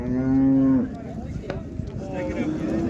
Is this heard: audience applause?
no